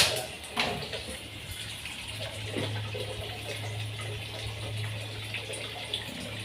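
Water pours into a pot of frog curry flavored with lemongrass, a steady close gush running for several seconds with faint clinks of the pot underneath.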